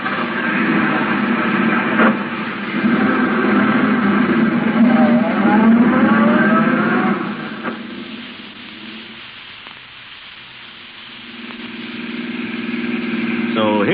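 A taxi car engine in a 1936 radio drama sound effect revs and pulls away to follow a gray sedan, loud and close, then fades to a lower hum before rising again, with a voice speaking over the start.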